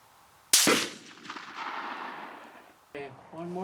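A single sharp target rifle shot, one of a five-shot group fired at a precision range, loud and close with a short decaying echo, followed by someone talking briefly at the end.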